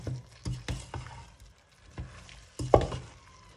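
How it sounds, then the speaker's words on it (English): Grated carrot stirred into browned beef mince in a pan, a few distinct scraping and clattering strokes over a soft background sizzle, close and moderately quiet, with no talking. "we're going to stir the carrot and we're going to let it cook for about a minute"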